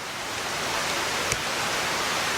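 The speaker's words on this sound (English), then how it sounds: "Back near the waterfall again. You can probably hear it down there" The waterfall at Sweet Arrow Lake in Pine Grove, Pennsylvania, gives a steady, even rush of falling water heard from a short distance. The sound is continuous and alone, with no voices.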